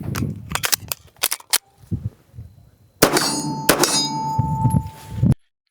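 Pistol shots at a shooting range striking a steel target, several sharp reports each followed by a ringing metallic clang, loud and close, with a brief gap between the opening volley and the later hits.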